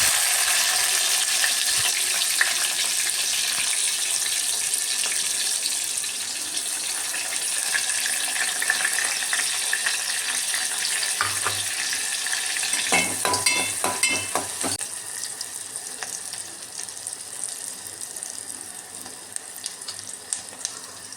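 Onions frying in hot oil in a home kitchen, a steady loud sizzle that holds for about twenty seconds, with a burst of stirring and scraping partway through and no talking.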